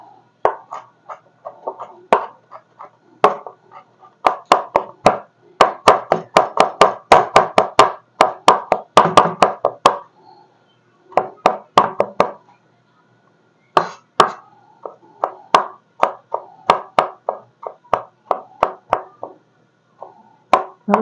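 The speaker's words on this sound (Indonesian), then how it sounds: "Nah ini harus dicincang" Knife chopping fish balls and vegetables on a cutting board for Korean kimchi noodle soup: quick bursts of sharp, close knocks in rapid runs, pausing briefly between flurries, with no talk.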